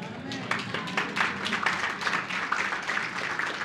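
A church congregation applauds during a sermon, making dense and fairly steady clapping that fills the room, with a murmur of voices underneath.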